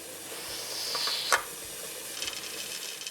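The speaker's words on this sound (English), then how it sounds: "when I start to see steam come out of the release, out of the vent" Steam hisses from the vent of a pressure canner processing venison, a steady broad hiss with a brief sharper burst midway, close by and alone.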